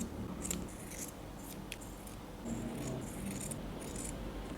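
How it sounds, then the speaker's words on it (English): Scissors snipping fabric for a knotted headband, a few soft crisp cuts in quick succession, close but quiet against a faint background hiss. "I will cut a little here. Make sure that the fabric is slightly larger than our headband."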